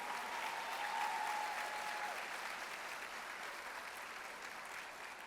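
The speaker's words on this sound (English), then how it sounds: "Please give all of these individuals a big round of applause" An audience at a housing officers' conference opening claps in a sustained round, a thick steady patter that stays fairly even and slowly eases off toward the end, with no talking over it.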